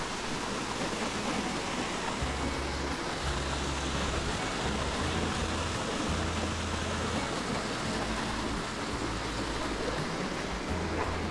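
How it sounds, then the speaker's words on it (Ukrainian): A waterfall in the Carpathian mountains, a constant broadband rush of falling water, steady and fairly faint, with low rumbling underneath and no talk. "Діти завжди тут полюбляють бути біля цього водоспаду."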